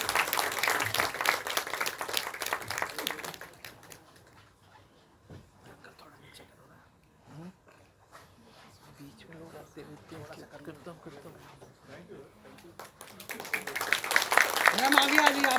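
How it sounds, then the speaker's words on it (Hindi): An audience claps at a stage event as a guest is invited up. A loud burst of applause opens, gives way to quieter talk and murmuring, then swells again into full clapping at the end. "ये गर्व की बात है और इस पे तो ताली आनी चाहिए"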